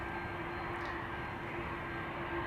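Jet engines of a departing Turkish Airlines Airbus A330 at Amsterdam Schiphol Airport give a constant broad roar with a steady droning tone, moderately distant and unbroken across the short stretch.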